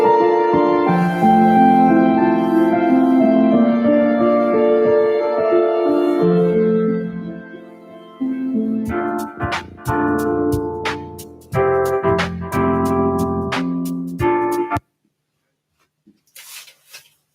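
Synthesized MIDI music rendered in a web browser through WebAssembly and Web Audio, a sustained multi-note electronic tune with shifting chords, then sharp percussive hits, stopping abruptly before a few faint trailing sounds.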